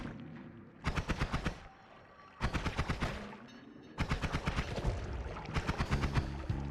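Rapid bursts from a magic wand in the video game Noita, heard as three separate volleys of fast, evenly spaced shots, each lasting about a second, with short pauses between them.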